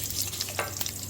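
Curry leaves crackle and sizzle in hot sesame oil, with a few sharp pops over a steady frying hiss during South Indian karamani kuzhambu cooking.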